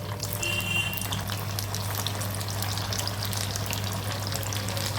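Aval (flattened rice) vadas deep-fry in hot oil, a continuous dense bubbling sizzle held close and steady throughout, with no voices.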